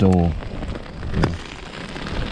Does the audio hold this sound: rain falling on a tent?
yes